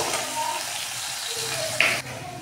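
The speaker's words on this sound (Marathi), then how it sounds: "इथे मी एक टमाटा मिक्सरला बारीक करून घेतला होता, तो टाकून घेणार आहे" Blended tomato poured into a hot pan of oil and spices, a short wet splash and gush over a background sizzle, ending with a sudden change as the purée lands.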